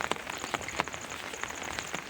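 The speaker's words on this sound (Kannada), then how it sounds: "ನೋಡ್ರಿ ಎಷ್ಟು ಮಳೆ ಆಗೈತೆ ನೋಡ್ರಿ ಕಡೆ" Rain falls on a farm plantation, a soft steady patter of drops with sharper splashes scattered through, fairly faint and close, with no talking.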